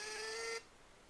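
A NIIMBOT B21 portable label maker prints a label with a steady, close mechanical whir that stops abruptly about halfway through, followed by quiet.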